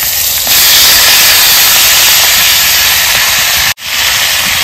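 Green chillies and chopped sour greens hit hot oil in a pan, a loud steady hiss of steam and sizzle running through the whole stretch with a brief break near the end.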